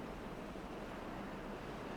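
A steady, soft rush of falling water from a small waterfall in the colony-building game Timberborn hums on evenly and quietly throughout, with no voices over it.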